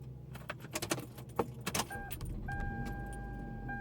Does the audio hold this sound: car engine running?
yes